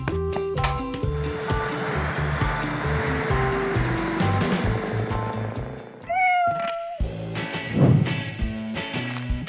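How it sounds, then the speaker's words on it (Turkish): Cat stuck up a tree meowing in several loud, drawn-out cries, with a rushing wind or surf-like background noise beneath it. "Ah hayır, kedi ağaca sıkışmış."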